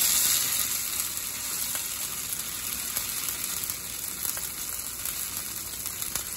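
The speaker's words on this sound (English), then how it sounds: "Try to fry these two at a time." Potato pieces fry in a pan on a home stove, giving a steady, close hiss and sizzle of hot oil that continues throughout with no voices.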